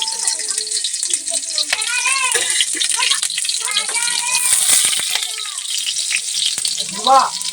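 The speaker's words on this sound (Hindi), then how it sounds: "तेल मेरा गरम हो गया है। लहसुन मिर्चाई डाल दे रहे हैं" Garlic and chilli sizzle and crackle steadily in hot oil, with stirring noises, while a person speaks over the frying.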